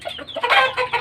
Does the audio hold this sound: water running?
no